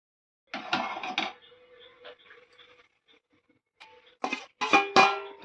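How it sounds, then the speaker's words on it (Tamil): Grated coconut dry-roasting in a pan while a spatula scrapes and clinks against the metal. Loud bursts of stirring open and close the clip, with quieter, scattered taps in between. "தேங்காயை வறுத்துக்கிறோம்"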